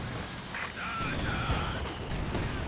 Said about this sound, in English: Got mortar firing down there